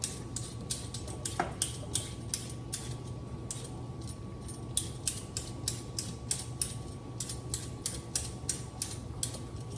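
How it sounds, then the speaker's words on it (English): Carrots scraped with a peeler in a home kitchen while making chicken pot pie, a steady run of short rhythmic scraping strokes over a low background hum, close and without talk. "All right, we're gonna peel some carrots."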